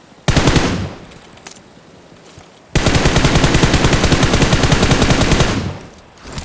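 Gunfire in the video game PUBG Mobile: a loud burst of rapid automatic shots, a short pause, then a longer sustained stream of rapid-fire shots that fades out.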